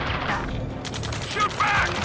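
Gunfire during a battle cutscene in Ace Combat 7: Skies Unknown, rapid shots and mechanical clatter mixed under shouted radio voices, dense and close.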